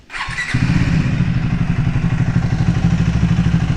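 Triumph Speed 400 motorcycle at a service centre, a short starter whir and catch as the engine cranks, then a steady, close, loud single-cylinder idle with an even pulsing beat.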